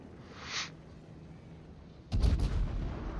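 Battleship gunfire and shell impacts in the World of Warships video game: a faint distant whistle, then a sudden loud booming crash with rumbling afterward.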